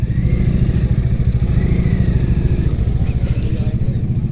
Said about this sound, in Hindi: अब यहाँ पे एक बार बाइक लगाते हैं